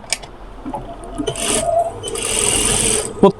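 Sewing machine stitching the side slit of a kameez, a steady mechanical whir running in two bursts, louder in the second half, with light fabric rubbing and a brief knock at the end.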